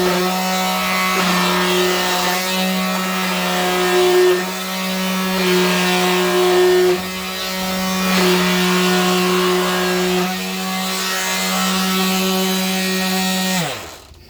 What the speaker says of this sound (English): Welcome to the 2023 Mini Sander races.